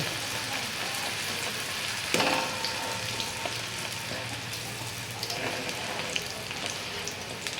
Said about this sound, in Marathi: आता आपण भटोरा टाकूया तळू